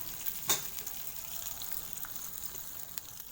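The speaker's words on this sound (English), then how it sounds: "Keep stirring and fry so that all parts of sundakai get fried equally" Dried sundakai vattal (turkey berries) fry in oil with fenugreek seeds while being stirred, a faint, close, steady sizzle with one sharp tap of the spoon near the start.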